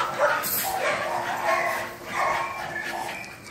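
Several dogs bark, yip and whimper at a kennel, with repeated overlapping barks close by and a person's voice faintly present.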